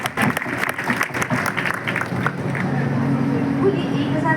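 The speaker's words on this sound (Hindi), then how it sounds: "आज आप एक बार तालियां बजाकर उनको आमंत्रित करेंगे।" Audience clapping at a Jain religious festival gathering, a dense sustained patter of many hands filling the space, steady and fairly loud, with crowd murmur and a voice beneath it.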